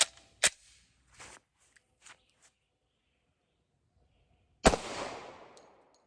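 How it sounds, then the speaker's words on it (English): FN 545 Tactical pistol firing .45 Auto into a car door: a single sharp, loud report with a short decaying tail, preceded by a few faint clicks and a brief earlier crack. "This is my brand new FN 545 Tactical in the 45 Auto."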